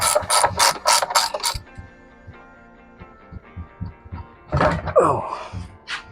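Ratchet wrench removing the front wheel of a mini chopper motorcycle: a burst of rapid clicking strokes up close, then scattered mechanical clunks and a second short ratcheting flurry.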